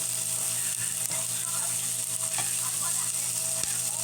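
Misua noodles and patola gourd are stirred in a pan, with a steady, moderately quiet sizzle and occasional soft scraping and clicking from the utensil.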